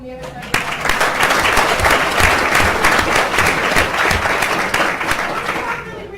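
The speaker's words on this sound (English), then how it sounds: "Round of applause for all the people from the other side." A crowd applauds police officers at a panel event on mass exoneration, with loud, dense clapping that starts abruptly, stays strong and steady for several seconds and then eases slightly at the close.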